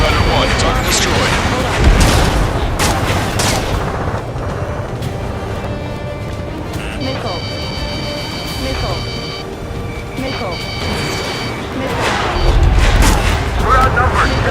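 Booming missile impacts and blasts from the Ace Combat 7 jet combat game on hard mode, heavy and continuous with broadband rumble, heard beneath radio chatter and tonal cockpit alert beeps.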